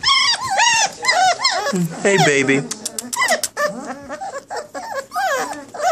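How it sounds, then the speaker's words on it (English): Puppies whimper, yip and give small growls up close, with high, wavering whines coming in repeated bursts while a person talks softly over them. "So we brought the puppies in today and he growling at me."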